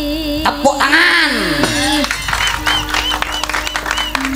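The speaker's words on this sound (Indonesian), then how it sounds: "Tepuk tangan." Audience clapping at a live Javanese wayang comedy show, a scattered patter of claps in the latter half, mixed with singing, gamelan-style instruments and voices.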